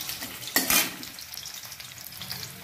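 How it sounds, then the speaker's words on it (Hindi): Potatoes frying in a pan, a continuous close sizzle with a sharp burst as they are added and stirred, then settling into steady crackling frying. "अब मैं ऐड करती हूँ आलू को फ्राई"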